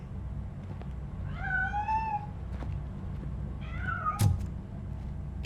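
A cat in the video game Robocop: Rogue City meows several times, two drawn-out rising cries with a knock-like thud after the second, over a low steady background hum and no speech.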